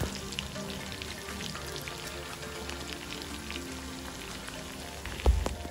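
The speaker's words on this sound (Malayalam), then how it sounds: "ഇനി ചിക്കനെല്ലാം പൊരിച്ചെടുക്കാൻ രണ്ട് മൂന്ന് ബാച്ചായിട്ട് ഞാൻ ഇങ്ങനെ ഇട്ടിട്ടൊന്ന് ഫ്രൈ ചെയ്തെടുക്കാം." Chicken pieces frying in hot oil in a pan, cooked in batches until about three-quarters done; a steady, close crackling sizzle runs throughout with a brief louder burst near the end.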